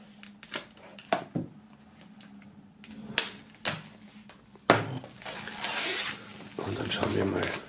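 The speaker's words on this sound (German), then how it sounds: "nachdem wir das jetzt wissen, werden wir das Ganze mal aus der Folie holen." Plastic shrink wrap pulled and torn off a vinyl record, with sharp crinkling snaps and tears early on, then a long continuous rustling crackle up close, and a voice talking along the way.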